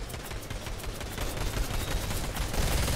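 Video game gunfire, a dense, continuous rattle of rapid shots at moderate level that builds slightly over three seconds, with no speech.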